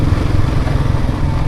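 Close, loud low rumble of a motorcycle engine fitted with a muffler, idling steadily with an even, throbbing pulse and no other sounds.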